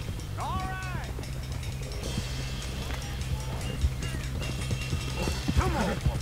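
A horse gallops in Red Dead Redemption 2, its hoofbeats thudding in a quick rhythm under game music while characters shout and a horse whinnies briefly.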